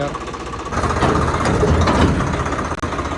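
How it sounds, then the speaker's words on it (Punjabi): Tractor engine running outdoors on a farm, a loud, steady knocking diesel chug that holds close and continuous with rough rattling throughout. "ਟਰੈਕਟਰ ਵੀ ਕਿੰਨਾ ਘੈਂਟ ਆ ਰਿਹਾ"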